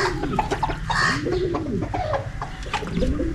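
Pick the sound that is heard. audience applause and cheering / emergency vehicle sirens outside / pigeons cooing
pigeons cooing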